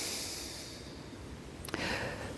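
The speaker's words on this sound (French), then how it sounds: "Et de prendre quelques grandes respirations." Deep, slow breaths drawn by people sitting with eyes closed; soft, airy inhales and exhales run steadily, with one brief sharper intake near the end and no talking.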